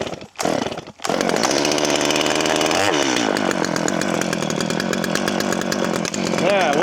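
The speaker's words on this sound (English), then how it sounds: "let's see if my steel chainsaw is mad at me" A steel chainsaw engine sputters, catches, and idles loudly and steadily up close, revving slightly as it warms up.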